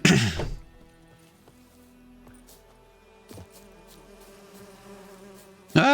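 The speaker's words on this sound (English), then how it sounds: "Ah, bees!" Bees buzz faintly in The Witcher 3, a low steady drone running through a quiet stretch between louder thumps at the start and end, with no talking.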